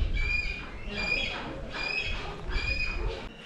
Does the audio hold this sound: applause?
no